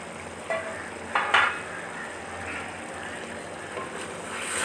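Chicken karahi cooking covered over high heat, a soft steady bubbling sizzle with a few brief clinks and scrapes near the start, fairly quiet, no talking.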